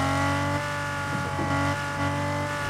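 A car engine in Fortnite revs steadily with a droning, buzzy tone and slight pitch wobbles, close and continuous with no talk.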